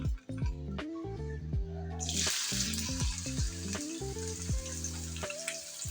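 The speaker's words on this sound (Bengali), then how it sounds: "দিয়ে দিচ্ছি পেঁয়াজ কুচি" Chopped onion going into hot oil in a kadai wok, where a bright sizzling hiss bursts in partway through and keeps going beneath steady tonal background sounds.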